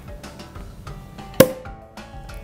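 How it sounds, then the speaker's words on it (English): A single sharp prosecco cork pop rings out once, loud and close, over a quiet low room murmur. "time to pop the bubbly."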